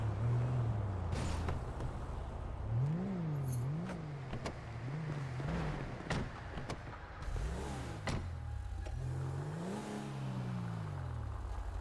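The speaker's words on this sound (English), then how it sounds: "I have his car, so I'm gonna park it for him." In a police roleplay video game, a car engine revs and shifts repeatedly as the car is driven to park, rising and falling in pitch, fairly quiet with clicks and brief bumps.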